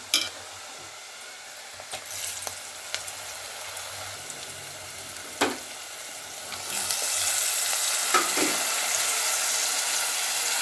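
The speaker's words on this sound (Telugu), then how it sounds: "ఉల్లిగడ్డ ముక్కలు ఇట్లా మంచి గోలినాయండి ఇప్పుడైతే టమాటా ముక్కలు వేస్తున్నాం" Tomato pieces tipped into onion pieces frying in a pan, a few clattering drops and knocks early on, then a louder, steady hissing sizzle takes over for the second half.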